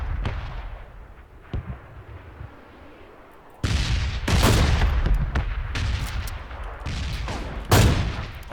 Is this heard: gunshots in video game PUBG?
yes